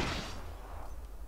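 One sharp gunshot from the video game Rainbow Six Siege cracks loudly and then fades in a short, rough decay.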